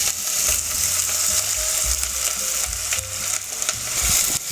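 About a quarter cup of oil with two cups of onions sizzles steadily in a pan, a bright continuous frying hiss with occasional clinks and scrapes of stirring, close and with no talk.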